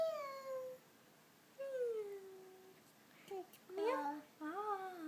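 A young child imitates a cat's meow with several drawn-out, sliding vocal meows separated by pauses, close and fairly quiet.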